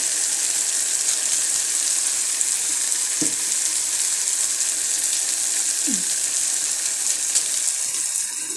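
Instant noodles and their masala powder roasting in a hot pan give a steady, even sizzle all the way through, with two brief scraping stirs partway along and no talk.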